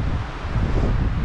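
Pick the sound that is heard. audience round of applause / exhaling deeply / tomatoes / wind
wind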